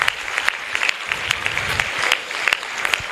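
Conference audience applauding an honored guest, a steady wash of many hands clapping with sharper individual claps standing out throughout, fairly close and continuous.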